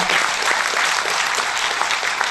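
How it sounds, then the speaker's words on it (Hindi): Enthusiastic audience applause at a Hindi kavi sammelan poetry gathering, a dense continuous wash of clapping from a sizable crowd throughout. "एक बार जगदम्बा के लिए जोरदार तालियां होगा"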